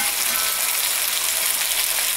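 Broth from freshly cooked meat hits hot meat and flour in a pan for Kazakh un kuyrdak with sheep tail fat, giving a loud, steady, crackling sizzle throughout.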